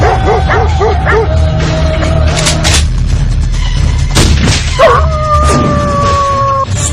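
A dog barks and howls in a tense outdoor drama scene, with loud yips and a sustained howl over a heavy, rumbling background of booms and music.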